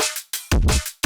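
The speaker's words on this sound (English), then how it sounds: "Now, I really like this asymmetrical distortion from Serum." Kick drum hits through Serum's asymmetrical distortion, loud and gritty, with a buzzy crunch over a booming low thump; a few strikes in quick succession, no talking.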